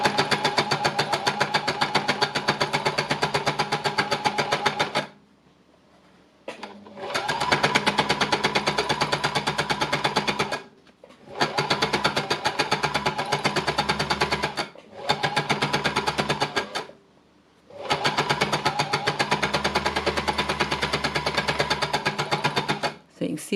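Embellisher machine needle-punching fabric, crinkling the material, running in several long loud bursts of rapid mechanical chatter separated by short pauses.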